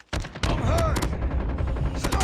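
Rapid bursts of gunfire from the Call of Duty video game, loud and dense, with overlapping shots and sharp cracks filling the whole moment alongside a faint shouted voice.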